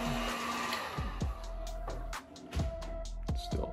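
Heat gun blowing hot air over a vinyl seam, a steady airy whoosh with a faint motor whine, broken by a few short clicks and bumps from handling.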